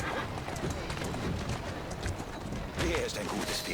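Horse hooves clip-clop through Assassin's Creed Syndicate, a steady patter of steps running under dense game noise and layered voices, the gait blurred by the surrounding mix.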